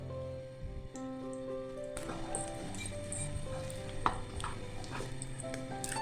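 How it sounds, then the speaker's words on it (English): Prawns sauté in garlic oil in a wok, giving a low sizzle broken by clicking and scraping from the utensil, quiet and close over steady background music. "So then we saute our prawns."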